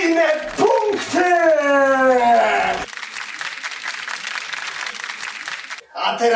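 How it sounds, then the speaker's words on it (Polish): A quiz-show presenter speaks excitedly, then studio applause for a contestant bursts in and continues for about three seconds before cutting off. "Brawa dla Michała, zdobywa swoje kolejne punkty"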